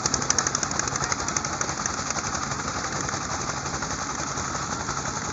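A motor boat travels along a river toward a village market, its engine chugging in a fast, steady, rhythmic putter that stays loud and constant throughout, with no talking.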